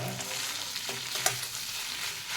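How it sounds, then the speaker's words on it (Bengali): Fish head and bitter gourd curry stirred in a pan, a continuous frying sizzle with a brief scrape of the spoon midway. "ভালো করে সবগুলো নাড়িয়ে নেব"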